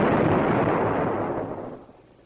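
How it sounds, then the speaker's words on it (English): A hot water tank bursts as its superheated water reaches 300 degrees: one loud, close blast that rolls into a broad roaring rush and slowly fades, with no voices. "And the engineers almost got a steam bath from this explosion."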